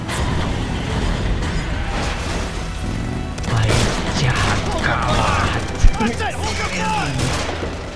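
In the PS4 game Beyond: Two Souls, during the Hunted chapter, cars blow up in rapid bursts of gunfire and heavy booms, including one sharp blast near the end, while someone talks over the action.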